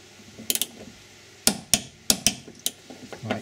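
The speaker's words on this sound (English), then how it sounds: "So we're going to tighten these up to 30 newton meters, which is the correct factory spec torque" Torque wrench tightening ISOFIX child-seat bracket bolts in an Audi to 30 Nm: several sharp metallic clicks and clacks in small clusters, close and fairly loud, with no talking.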